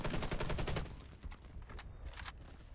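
An AK-47 fires in the video game Warface, opening with a rapid full-auto burst for about a second, then several short bursts and single shots, loud and close with no talking.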